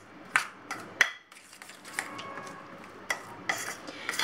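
A utensil stirring salt and baking powder into low-carb keto bread dry ingredients in a bowl, with soft scraping and a few sharp clinks against the side at an uneven rhythm, close and quiet with no speech.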